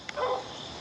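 Outdoors in a garden while mulch is being cleared, a dog gives one short bark at moderate distance, a quick burst followed by quiet background hiss.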